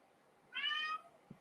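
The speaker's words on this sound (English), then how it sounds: "Whoa. Hello, Mr. Cat." A house cat lets out a single clear, fairly close meow lasting about half a second in a quiet room, followed by a small soft knock.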